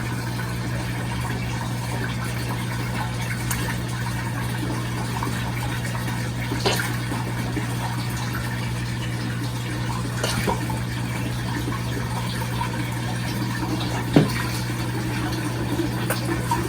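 Water siphoned through a tube pours steadily into a turtle tank, a continuous near trickle over a constant low hum, with a few faint knocks.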